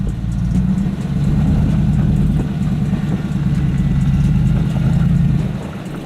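A Hummer H2 SUV stuck on an off-road obstacle with its suspended wheels spinning, no traction control: a loud, steady low engine drone with slight swells in revs, close and continuous, no talking.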